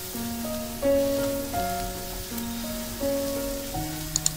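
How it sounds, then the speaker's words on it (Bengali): Flattened rice with spices is stirred in a frying pan: a soft, continuous sizzle with faint stirring, heard under melodic background music and a couple of small clicks near the end. "খুব ভালোভাবে সবকিছু মিশিয়ে নিচ্ছি।"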